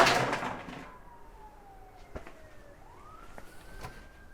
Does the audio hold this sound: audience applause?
no